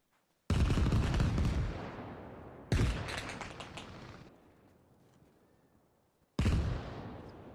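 Gunfire in Arma Reforger: three loud, close blasts, each trailing off in a long reverberant tail, spaced a couple of seconds apart with no one talking.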